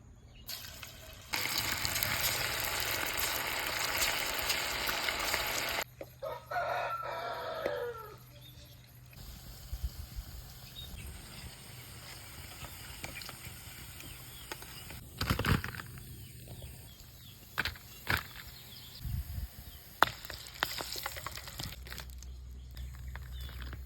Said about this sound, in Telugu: వేడెక్కిన నూనెలా పకోడీ వేసుకుందాం.